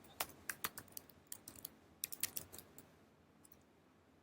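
Someone types short notes on a computer keyboard, a close, quiet run of sharp key clicks in uneven bursts that thin out toward the end.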